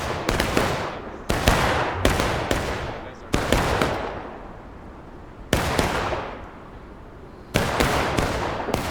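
Bursts of musket gunfire in War of Rights, a Civil War battle game, with sharp volleys and scattered single shots cracking out repeatedly over several seconds, loud and close, each volley trailing into a fading echo.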